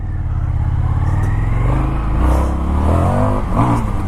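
A 2019 Indian FTR 1200 motorcycle accelerates hard, its loud, close engine rumble rising in pitch through the revs with a rough, throaty edge and no talk.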